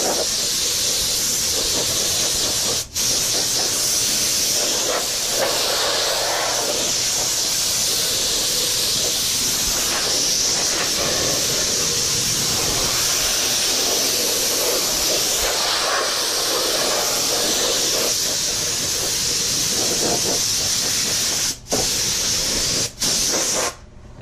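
Glue sprayed onto door panel pieces for a 1984 El Camino interior: a loud, continuous aerosol hiss runs almost unbroken, with a few brief cut-offs near the end.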